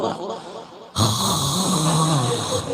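A voice imitates a drawn-out yawn during a talk about prayer at a Maulid Nabi gathering in a prayer room. The loud, wavering groan starts abruptly after a brief quiet stretch and carries on to the end.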